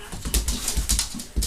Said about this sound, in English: your barking hurts in the ear